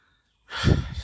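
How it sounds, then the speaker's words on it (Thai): A hiker breathes heavily while climbing a short, steep trail in Mae On district, Chiang Mai, Thailand, with a few close, rough breaths and a sigh-like exhale. "หายใจไม่ค่อยสะดวก"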